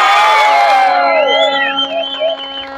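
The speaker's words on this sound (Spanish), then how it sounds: "darle un fuerte aplauso a nuestros hermanos de Tigres" Loud whoops and high, sliding cheers rise from a crowd at a trophy ceremony for a 2024 cup tournament, voices overlapping near the start and thinning to a few scattered calls, with no distinct clapping.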